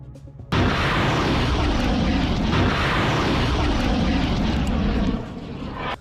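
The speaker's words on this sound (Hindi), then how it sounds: "कुछ देर बातचीत करने के बाद इस ड्रोन को ईलत की तरफ लॉन्च कर दिया जाता है" A propeller-driven attack drone, launched by Iraqi fighters toward Eilat, starts up abruptly with a loud, close engine buzz. The buzz holds steady for several seconds, then eases slightly near the end.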